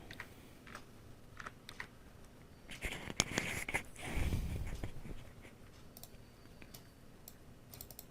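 Keys on a computer keyboard clatter in scattered quick bursts while a Canva design tutorial title is typed in, fairly quiet and close, with a denser flurry of taps midway and no talking.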